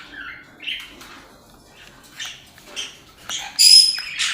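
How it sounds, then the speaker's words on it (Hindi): White ringneck parrots in an aviary breeding box giving short scattered squawks and chirps, faint to moderate, with a louder shrill call near the end. "वाइट रिंग नेक का मेल तो बाहर आ गया है, येलो फीमेल अंदर ही है बॉक्स के।"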